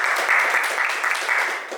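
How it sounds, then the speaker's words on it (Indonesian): Classroom applause for a group's discussion presentation: a steady, dense burst of many hands clapping together, close and fairly loud, lasting the whole short moment without a break. "Beri tepuk tangan untuk hasil diskusi kelompok 2."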